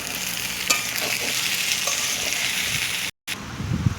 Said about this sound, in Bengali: এদিকেও ভাজা হচ্ছে।